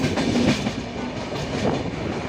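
A passenger train between Brahmapur and Vizianagaram rolls steadily on its tracks, with continuous loud rumble and rhythmic wheel clatter from inside the carriage.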